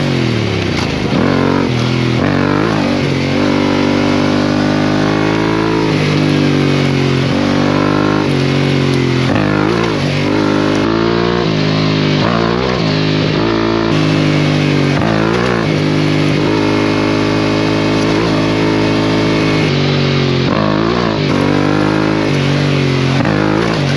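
A motorcycle with fresh rear brake pads, a NiceCNC rear disc guard and extended foot pegs is ridden, its engine loud and close, revving up and down through repeated accelerations and gear changes, with no talk.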